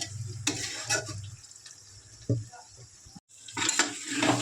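Prawns sautéing in a pan with sour yogurt, a soft hiss broken by stirring scrapes and a brief clatter, with a short quiet gap before the frying noise returns louder.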